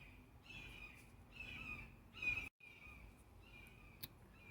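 Several birds call in harsh, cawing bursts over steady background noise, fairly close, during work on a BMW E46 car, with a sharp knock near the end.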